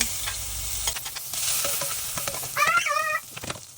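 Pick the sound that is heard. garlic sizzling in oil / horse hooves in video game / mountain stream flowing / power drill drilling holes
garlic sizzling in oil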